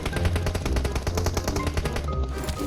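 Rapid bursts of automatic gunfire in the battle royale game PUBG Mobile, loud and dense throughout with a brief gap near the end.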